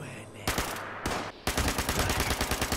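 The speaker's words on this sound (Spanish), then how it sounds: "si sigo disparando crashea mi Xbox. Nada, quería simplemente probar mi arma." Bursts of automatic weapon fire in Fallout 76 on Xbox, loud rapid rounds in short volleys separated by brief gaps, then a sustained stream of shots.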